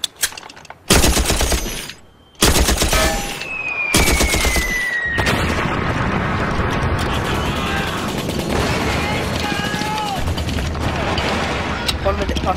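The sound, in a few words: machine gun fire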